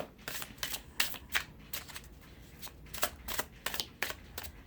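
A deck of Halloween-themed tarot cards is shuffled by hand, a rapid series of crisp riffling flutters and snaps in uneven bursts, close and clear with no talk.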